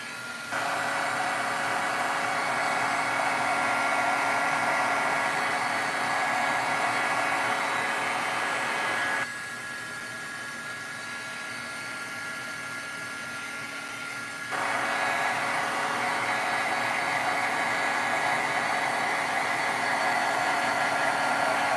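Close, loud, steady whoosh of a heat tool melting clear embossing powder on stamped paper, dropping to a lower, softer blowing partway through before returning to full strength, with no talking.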